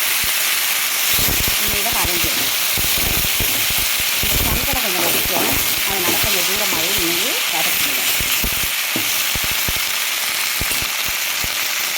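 Vallarai and sangalai greens sauté in a hot pan with a continuous close sizzle and hiss, while a voice talks over it through the middle.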